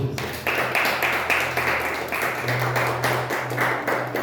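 A church congregation claps together during a service, a moderately faint, steady patter of many hands with rhythmic bursts under a low hum.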